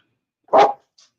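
A single loud, close dog bark cuts through a quiet backyard on a summer day, followed by a couple of faint high chirps and then silence.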